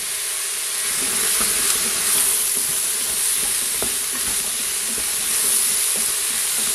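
Sliced courgette and carrot browning in a hot pan, a steady close sizzle with light crackles and faint stirring scrapes throughout, no voices.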